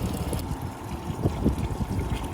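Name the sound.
water flowing back into bucket during tankless water heater flush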